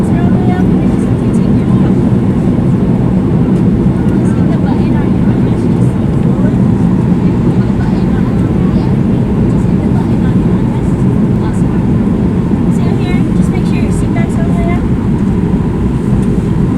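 Inside a Southwest Airlines airliner cabin on approach with flaps deploying, a dense, steady roar of engine and airflow noise fills the space, loud and unbroken from start to finish.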